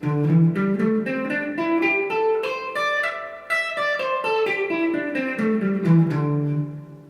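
A clean electric guitar runs a pentatonic scale pattern up and then back down, single notes in an even rhythm, clear and close.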